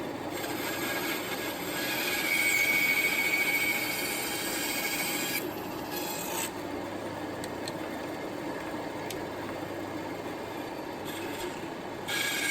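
Bandsaw cutting wooden table legs with a taper jig, a continuous steady whirring hum with a rising whine as the blade works through the wood, close and alone without speech.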